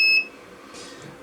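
A small electronic buzzer driven by an ESP32 microcontroller gives a sharp, loud high beep that cuts off quickly, leaving a low hum and faint rustle.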